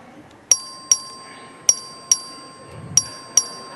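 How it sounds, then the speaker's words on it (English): Legislative chamber voting bell ringing during a record vote, six sharp, clear electronic dings spaced roughly half a second apart over quiet room tone, with no talk. "Clerk will ring the bell."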